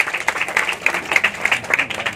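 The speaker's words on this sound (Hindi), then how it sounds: "जोरदार ताली" Applause and clapping from a crowd at a political tribute ceremony in Bihar, honouring a senior leader as he is called forward; dense, steady clapping fills the whole stretch, fairly loud and close.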